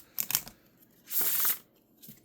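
Earth and Bone Oracle cards being shuffled in a few quick riffling bursts, close by: a short flutter, a longer steady riffle, then a faint final ruffle.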